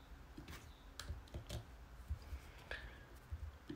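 Soft, irregular keystrokes tap on a computer keyboard as a region name is typed in, quiet and close, in short bursts with brief pauses.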